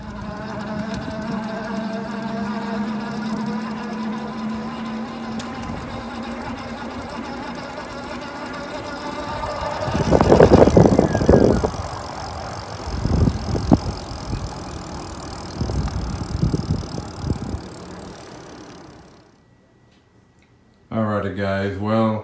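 A Super73 R e-bike fitted with whitewall tires rolling along, a steady whirring hum with rushing wind bursts midway, fading to near quiet before a voice speaks at the end.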